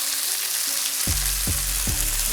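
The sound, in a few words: rack of lamb searing in a hot cast iron pan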